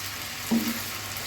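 Beans, potato and tomato fry in a pan with a low continuous sizzle and one brief stir or scrape in the middle.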